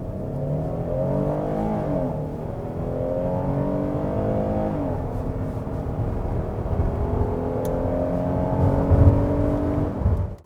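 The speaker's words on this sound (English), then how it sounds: "This is my Hyundai Palisade doing 0 to 60 only with lava mic." Hyundai Palisade accelerating from 0 to 60 mph, picked up on a lavalier mic inside the cabin: a steady engine drone with tones rising through several gear shifts, moderately loud and continuous with no talking.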